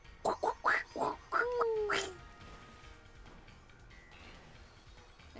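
Quacky, squawking cry of a duck Pokemon sent out in Pokemon Violet, a quick series of short calls followed by a sliding tone, then quieter game background sound.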